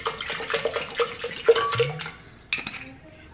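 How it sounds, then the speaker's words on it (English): Water is poured into a blender jar for a protein shake: short splashing and clinking bursts close by, then a trickle tapering off. "Gonna do water."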